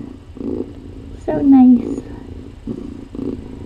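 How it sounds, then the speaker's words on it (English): A mother cat with her tiny kittens purrs in steady, pulsing low rumbles close by, while a person briefly speaks softly over the middle of it. "listen to that purring"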